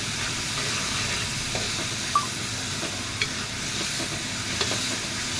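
Onions and tomatoes with a pinch of turmeric frying for a drumstick and egg curry, giving a steady close sizzle with a few light clicks of a stirring spoon.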